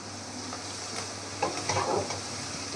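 Leafy greens frying with Barishal prawns in a pan on a village stove, a steady low sizzle with a few soft stirring scrapes near the end.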